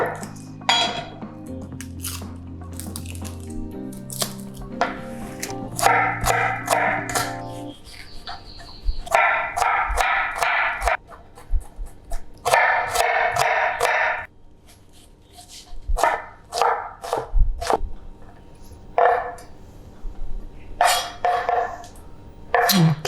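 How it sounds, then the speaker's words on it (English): A knife chops shallots on a chopping board while a prawn and butternut squash soup is prepared, a series of sharp, uneven taps with dish clatter and other kitchen sounds around them at close range. "let's chop the shallots"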